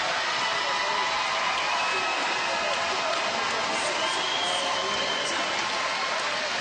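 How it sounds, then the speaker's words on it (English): A big diving crowd roars and cheers for local divers at a 3m synchronised event in London, a loud, sustained wash of cheering with commentary on top. "Big cheer, big local support"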